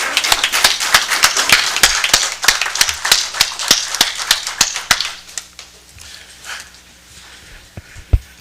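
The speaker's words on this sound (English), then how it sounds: "And let's give them all another round of applause." Applause at a city council meeting: a small crowd claps sharply and quickly at first, then the clapping thins out and fades, leaving a few scattered claps and a quiet room near the end.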